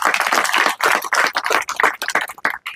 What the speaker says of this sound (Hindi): इनके लिए भी जोरदार ताली बजाते।